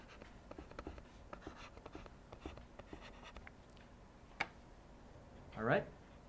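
Marker or pen writing on a board in a physics lesson, with scratchy strokes and taps repeating through the clip, a sharp tick near the end and a louder squeaky stroke just after.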